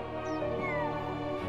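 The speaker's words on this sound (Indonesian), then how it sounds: "Kucing malang itu sangat ketakutan dan menangis." A frightened cartoon cat lets out one sustained, wavering meow, close and fairly loud, with a background music bed and no talk.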